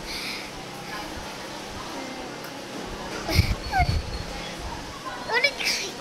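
A dog whimpers and yips in short, high whines over a low background hum, the cries clustered near the end.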